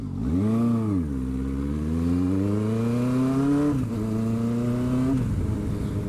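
A motorcycle engine revs and climbs in pitch while ridden, dropping briefly at each gear change before rising again, close and steady throughout with no speech.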